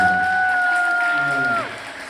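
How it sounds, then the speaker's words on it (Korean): An audience at a Korean book talk about wildflowers in the climate crisis applauds at a fairly low level, with a held voice tone ringing over the clapping before it tapers off. "다시 한번 박수를 크게 좀 보내주시기 바랍니다"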